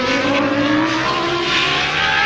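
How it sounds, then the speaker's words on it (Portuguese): Ligier Formula 1 car with a damaged Mugen Honda V10 running on nine cylinders at the 1995 Australian Grand Prix in Adelaide, a loud, continuous high-pitched engine wail under steady load, close and dominant throughout. "É um motor V10, já foi para o espaço, está trabalhando ali com 9 cilindros, o motor Mugen Honda, que empurra a Ligier"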